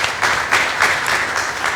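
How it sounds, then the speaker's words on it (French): An audience claps steadily for a guest on a café-style talk show, a loud, continuous patter of many hands throughout. "On va applaudir encore une fois de plus notre invité qui est là."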